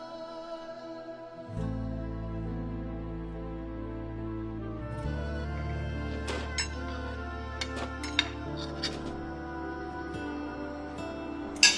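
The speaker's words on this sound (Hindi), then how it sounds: "सुनो, इन बर्तन को ना अच्छे से धो देना।" Dishes and utensils being washed, with scattered light clinks and clatters of metal and glass over a steady background hum, fairly quiet and without speech.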